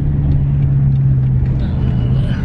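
A BMW M5 Competition accelerating on an open road, heard from inside as a loud, steady low engine drone with a sustained tone and road rumble.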